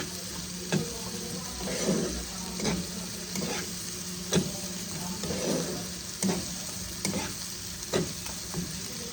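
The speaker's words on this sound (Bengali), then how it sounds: "ততক্ষণ অবধি আমি মশলাটাকে কষাবো যতক্ষণ অবধি মশলার কাঁচা গন্ধটা চলে না যায়।" Spice masala being sautéed in a pan until the raw smell cooks off, for dhaba-style palak paneer: a continuous sizzle with regular spatula scrapes about once a second.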